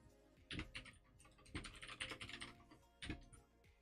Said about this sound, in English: my keyboard keeps like clicking and making noises